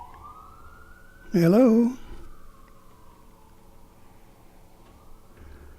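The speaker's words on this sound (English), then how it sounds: "heard the sirens" An emergency vehicle siren wails in the background, a thin tone slowly sweeping down and back up, while a voice briefly calls out close by during a radio broadcast.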